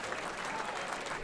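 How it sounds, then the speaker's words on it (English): Audience applause at a banquet in an Elks lodge in Lawrence, Massachusetts, after a check is presented to a Methuen High School student: steady, dense clapping from a crowd, heard from a distance and fairly soft throughout. "Round of applause."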